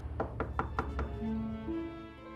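A door is knocked five times in quick, even succession, close and moderately loud, followed by a faint sustained tone from a television drama's background score.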